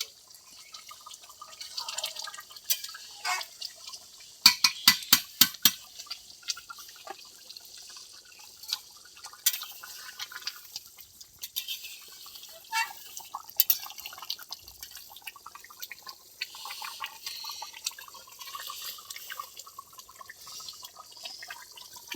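A pot of meat curry with a thick gravy simmers, giving soft, scattered bubbling pops and small drips, with a brief cluster of quick pops early on, faint and close.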